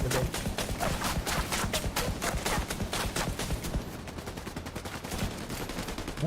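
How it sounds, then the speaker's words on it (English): Rapid, continuous gunfire from The Division 2 video game, dense repeated shots in quick bursts throughout, loud and close with no pauses. "I'm shooting. I'm going to shoot that dude."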